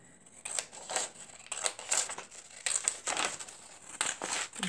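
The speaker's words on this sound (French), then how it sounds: "On va couper sur notre trait." Scissors cutting through paper along a drawn line while making a small journaling notebook, a series of crisp, close snips and crinkly paper rustles in irregular bursts, with no one speaking.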